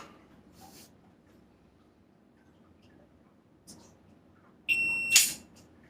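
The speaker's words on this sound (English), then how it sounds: "Wait till the beep was practically over." A short, sharp electronic timer beep with a high tone sounds near the end of a reaction drill, loud and close against a quiet background.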